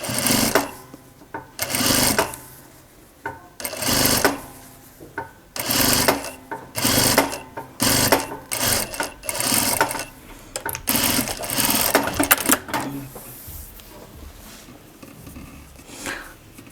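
A sewing machine stitches a hoodie seam in repeated loud bursts of rapid needle clatter, separated by short pauses as the fabric is repositioned, with no talking.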